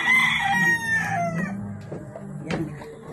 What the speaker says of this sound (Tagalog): Ay, may manok doon, oh.